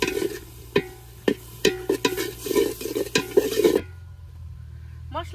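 A spoon scrapes and knocks in a pan as a spice masala of salt, coriander powder and turmeric fries in a village kitchen. Irregular clacks sound over a low sizzle, then the stirring stops and only a quiet hiss remains.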